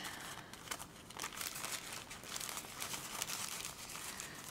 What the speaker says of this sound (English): I'm just going to fold it and kind of gather it